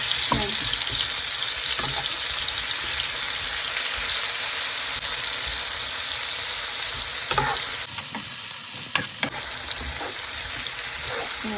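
Chicken fries in a pan with a steady, dense sizzle that runs throughout, with occasional stirring clinks and scrapes close by and no talk.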